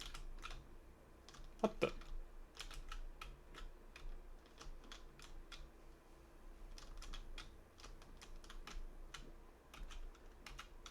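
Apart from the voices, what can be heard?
typing on a computer keyboard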